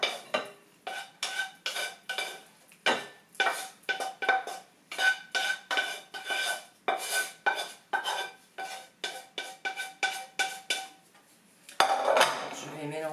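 Cooked quinoa is scraped and tapped from a pot into a dish with a utensil, giving a steady run of close, rhythmic metallic scrapes and clinks, followed by a brief rougher rustle at the end.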